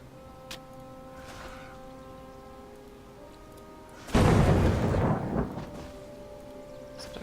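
A thunder attack from the Titan Quest Anniversary Edition video game lands as a loud, rumbling burst about halfway through, swelling for roughly a second before fading under a steady background hum.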